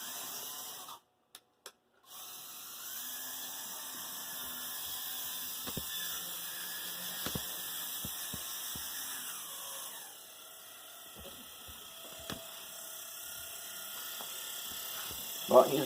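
A brass model train locomotive running on track, a faint steady mechanical whir with occasional small clicks from rail joints, heard alone and continuous.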